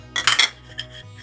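Cashews tumble onto a warm tawa griddle for thandai powder in a short, bright rattling clatter of hard pieces on metal, followed by a couple of faint ticks and near quiet.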